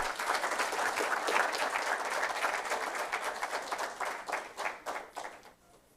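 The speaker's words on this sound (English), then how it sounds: "let us give our champions a lusty round of applause." An audience at an inter-secondary-school food safety debate competition applauds the champions, a full, sustained round of clapping that gradually loosens into scattered individual claps and fades out.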